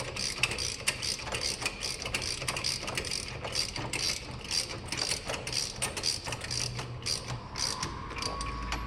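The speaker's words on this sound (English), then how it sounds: "spend a couple of minutes just tightening this bolt down" A socket ratchet tightens a bolt on a vehicle rig for a dual vertical speedrail mount, giving a steady stream of close, rapid clicking strokes throughout.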